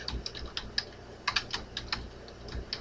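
Typing on a computer keyboard: close, clear key clicks in an uneven run with short pauses and a few quick clustered strokes, with no voices.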